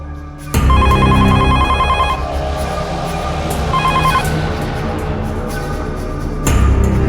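A telephone rings in repeated bursts of a bright electronic trill, loud and close, over a steady indoor background and dramatic music in a Hindi crime drama scene.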